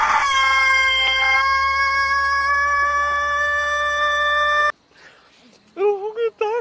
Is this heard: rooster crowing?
yes